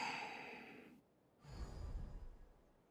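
A character's breathing in Genshin Impact, a drawn-out exhale or sigh followed by a pause and then a softer, rumbling breath, close and quiet.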